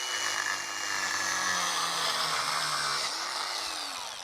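A Vevor diamond core drill bit bores a hole through a pot, giving a loud, continuous grinding whine for about four seconds that eases off at the end.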